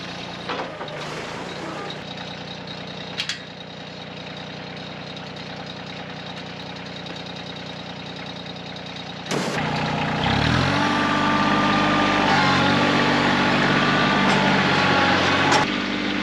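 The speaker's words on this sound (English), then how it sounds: "I gotta move this trailer." A truck engine runs steadily while moving a trailer on a farm, idling with a low rumble before a louder revving surge takes over, with occasional clanks.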